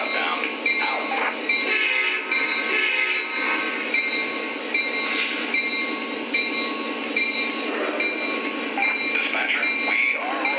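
An MTH model train rolls out on a layout with a steady mechanical hum and rumble, and tonal sounds that may be horn or whistle effects. Someone speaks over it.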